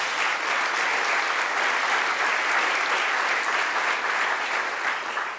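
Sustained audience applause fills a school district gathering, a dense, steady wash of many hands clapping at close range with no pause from start to finish.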